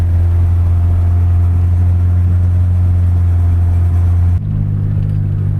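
A 1996 Honda Accord drives steadily with a loud, close engine drone and road hum, briefly easing off near the end.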